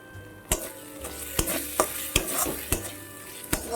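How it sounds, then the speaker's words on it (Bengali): Slit green chillies fry in a spice paste with very little oil for an egg curry, a low sizzle broken by repeated sharp scrapes and knocks of a spatula against the pan, close up. "লঙ্কাটাকে মশলার সঙ্গে একটু নাড়িয়ে চাড়িয়ে নেব"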